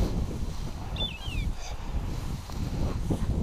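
A bird calls outdoors, a short rising-falling cry like a crow's caw standing out once over steady wind and ground noise, with no one speaking.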